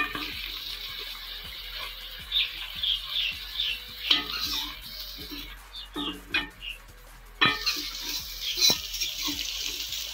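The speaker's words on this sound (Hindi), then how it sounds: "इसको बस थोड़ा सा हमने भून लेना।" Green garlic, green chilies and ginger-garlic paste frying in a pan, with a watery hiss and crackle broken by intermittent stirring scrapes. The sound is close and fairly loud, with no speech.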